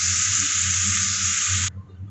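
Shrimp sizzling in hot oil in a home kitchen, a steady bright hiss for almost two seconds that cuts off sharply near the end and leaves a quiet background hum.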